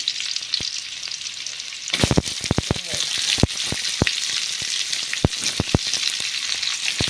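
Garlic dropped into hot oil in a pan, a steady sizzle that jumps louder near the start, then crackles and pops while being stirred.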